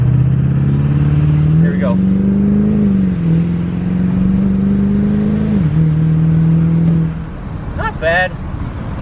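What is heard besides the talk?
Duramax diesel pickup truck launching and accelerating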